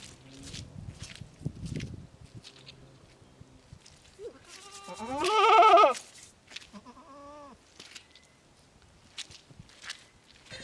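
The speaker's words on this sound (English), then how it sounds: "She has beautiful goats." Farm goats bleat, one loud, drawn-out call rising mid-clip above quieter shuffling footsteps and softer animal sounds nearby.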